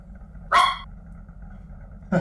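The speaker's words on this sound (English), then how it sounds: "Sorry, my dogs are barking." Pet dogs bark at home, one sharp loud bark followed by a pause and then the start of another, close by over a quiet background.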